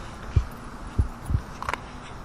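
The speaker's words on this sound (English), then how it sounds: "it was definitely a legitimate heartbeat" Three low, dull thuds spaced unevenly like a heartbeat, picked up on an EVP recorder in a cemetery at night, followed by a brief faint higher rustle, all fairly quiet with no talking.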